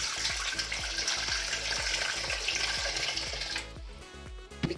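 Cold water pours steadily into a brine mixture for goat ribs, a continuous splashing rush that fades out near the end under a rhythmic music beat.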